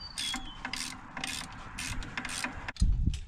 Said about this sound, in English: We're going to do that by loosening up this 1/2-inch bolt right here on the alternator